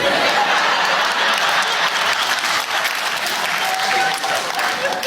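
Sustained audience clapping fills the room from start to finish, a dense, steady wash of applause with faint chuckles mixed in.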